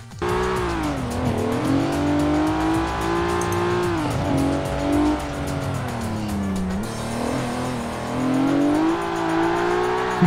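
Race car in Forza Horizon 4 taking a fast turn on the outside line, its engine holding a loud, continuous high-revving drone that dips and climbs with gear changes, tires squealing through the corner, with no voices over it.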